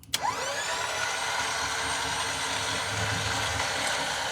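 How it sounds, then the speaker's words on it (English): An off-road winch on a Toyota Tundra starts with a brief clunk and spins up into a steady electric motor whine, pulling cable continuously for several seconds at close range. "now we're gonna test the winch, see if it works"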